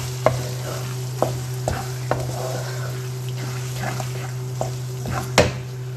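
Noodles being stirred with ketchup and mayonnaise in a home kitchen pan, giving soft scraping and clinking strokes at an uneven pace over a steady low hum.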